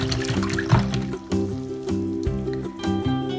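Water splashes and trickles while rinsing soap bubbles off a toy dolphin, faint and continuous beneath a louder, steady backing melody.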